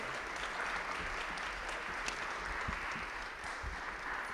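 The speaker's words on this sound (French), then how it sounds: "Il mérite, je pense, une bonne main d'applaudissements" Quiet, distant applause from an audience at a church fundraising campaign draw, a soft continuous patter of clapping with a few sharper claps standing out.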